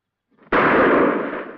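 A single sharp gunshot in an Old West duel cracks out suddenly after a moment of near silence, then its reverberation fades away.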